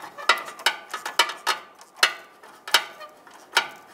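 A ratchet wrench clicks in quick uneven bursts as a nut is snugged onto the front catalytic converter of a 2007-2015 Mazda CX-9, close and crisp with short pauses between strokes.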